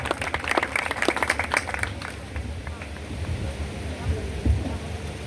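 A congregation at an outdoor prayer festival in Sargodha claps in a loose, fairly faint burst that thins after a couple of seconds, with wind noise and voices talking throughout.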